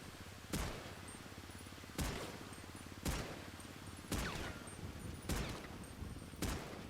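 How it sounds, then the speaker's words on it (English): Battle rifle gunfire in GTA Online: six sharp, evenly spaced shots or short bursts about a second apart, each ringing briefly over a steady background hum, with no speech. "Battle rifle just ripped apart that armor really quickly."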